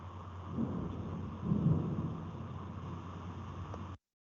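A thunderstorm with rain approaches, heard as a low rolling rumble that swells midway over a steady background hiss, faint and distant, ending abruptly, with no voices.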